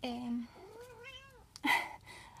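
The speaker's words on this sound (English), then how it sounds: "my cat" A pet cat meows in a drawn-out rising cry, then gives a shorter, sharper meow a moment later, close and clear with no talking.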